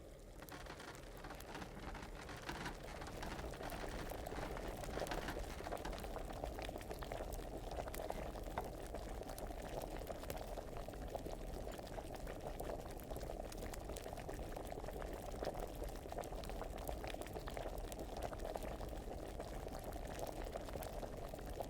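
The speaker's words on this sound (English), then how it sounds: "so we'll boil for 1 more turn" A potion bubbles steadily in an alchemy cauldron in Kingdom Come Deliverance, a continuous dense boiling and rolling burble that holds at an even, fairly loud level throughout with no voices.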